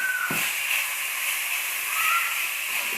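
Minced keema meat tipped into a pan of frying garlic and ginger gives a steady, fairly loud hiss and sizzle that holds for the whole stretch, with a couple of brief higher squeaks from the pan.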